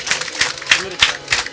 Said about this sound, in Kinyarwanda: ngaho amashyi muyongere amashyi y'inkewe rwose